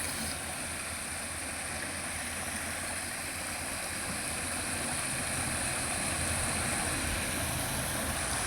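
Water gushes steadily from an outlet into a village fishing trap, a broad, continuous rushing close by that stays loud and even throughout, with no voices.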